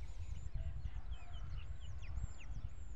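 Chickens cluck and chirp in short, scattered calls over a steady low rumble, sounding somewhat distant and fairly faint.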